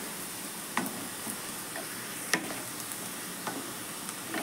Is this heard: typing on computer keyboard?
no